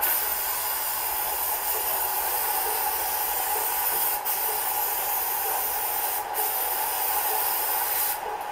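A spray gun applies a liquid paint mixture onto a surface for a wet-look finish, giving a steady, close, continuous hiss with no speech.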